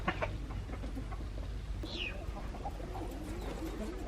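Chickens clucking and murmuring amid other birdsound in a rural setting in Northeast India, soft, scattered calls at low level over a background hum, with no speech.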